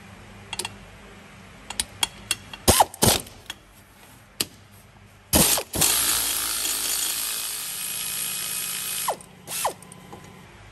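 A ratchet loosens a bolt on a Ford Everest tail-shaft CV joint, with scattered clicks and short ratcheting bursts, then a longer continuous ratcheting run, all close and crisp.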